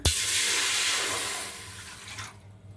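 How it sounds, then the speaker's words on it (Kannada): Water pours from a glass into a large cooking pot in a home kitchen while preparing rava-besan laddu, a steady close splashing stream that tapers off after about two seconds. "ಈಗ ಇದಕ್ಕೇನದ ಒಂದು ಅರ್ಧ ಗ್ಲಾಸ್ನಷ್ಟು ನೀರು ಹಾಕೋಣ"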